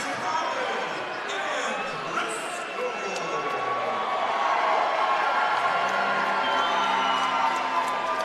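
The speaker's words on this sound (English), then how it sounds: "Great round of applause for Colin Andrisco as he enters the Civic Center" Arena crowd at an amateur boxing event in a civic center, cheering and applauding as a heavyweight boxer makes his entrance: a continuous roar of voices and clapping that swells partway through, with a ring announcer talking over it.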